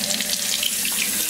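Tap water runs steadily while a capuchin monkey's belly is rinsed in a bath, a close, even splashing stream with no voices.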